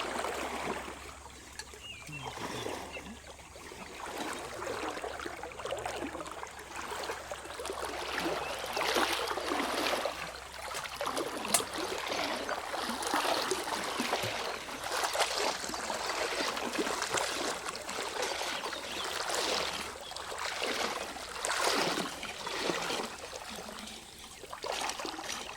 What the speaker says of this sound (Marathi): हे बघा पाण्याचा किती वेग आहे बघा.